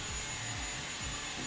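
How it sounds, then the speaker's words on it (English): A vacuum cleaner runs steadily in the background during a Mario Party game session, a continuous airy whine with a thin high tone and a few faint low sweeps. "Why do I hear a vacuum in the back?"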